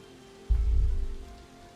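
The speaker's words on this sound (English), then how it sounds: "I just love it that it's raining." Steady low rumble of rain in the game Planet Coaster 2, a soft broadband wash that starts abruptly and holds for about a second before easing off, with no talk.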